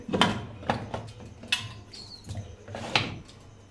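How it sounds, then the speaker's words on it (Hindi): Several sharp metallic clanks and clatters of a lid settling on a pot of beef biryani, spaced irregularly, close by with no talking. "अब ढक्कन बंद करेंगे,"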